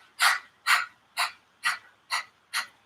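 Six sharp, rhythmic panting exhales of breath of fire in Kundalini yoga, evenly spaced about half a second apart, close and loud with near silence between them, imitating a dog's pant.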